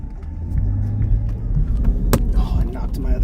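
A car's engine rumbling close by a driver on a Saturday night cruise in Denver, Colorado, a low steady idle with a sharp click midway and some voice-like murmuring mixed in.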